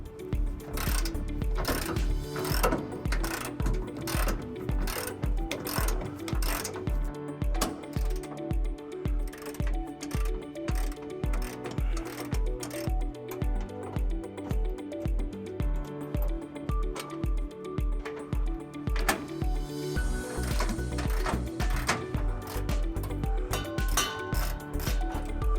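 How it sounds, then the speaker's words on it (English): A ratchet wrench with a 21mm socket loosens the bumper bolts on a 2016 Chevrolet Colorado during a trailer hitch install, giving steady, rapid clicking pawl strokes close up, repeated in long continuous runs with no talk. "we're going to go ahead and remove those bolts using a 21mm socket"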